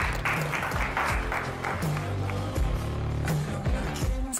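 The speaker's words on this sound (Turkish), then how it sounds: "Alkışlayabiliriz sizi." A studio audience claps in a dense, continuous burst of applause with a steady rhythm, mixed with a low rumble and bits of background sound.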